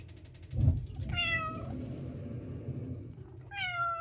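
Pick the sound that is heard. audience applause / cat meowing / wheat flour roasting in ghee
cat meowing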